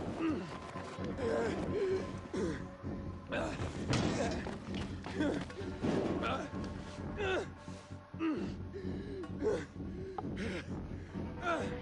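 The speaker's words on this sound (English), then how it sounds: "This sounds like a cartoon character that's incredibly out of breath." Heavy, exaggerated panting from an out-of-breath character in the video game Dying Light 2, rapid ragged gasps and sighs repeating throughout with occasional thuds and slams, under and between someone talking.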